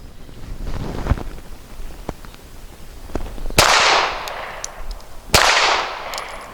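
Two sharp handgun shots fired outdoors with light .380 ACP ARX ammunition, spaced a couple of seconds apart, each a loud close crack trailing into a brief echo over steady wind noise.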